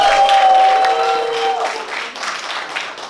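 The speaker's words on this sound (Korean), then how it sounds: "큰 박수 주시고요" Audience applause closing a vocal masterclass with a soprano, a dense wash of clapping that starts loud and gradually fades, with a lingering sustained tone at the start.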